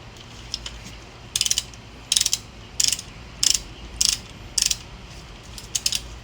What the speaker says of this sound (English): When it bottoms out, grab your torque wrench.